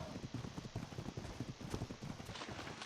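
Horse hooves clip-clopping in the ARK survival video game, a quick steady rhythm of soft thuds close by, running continuously without speech.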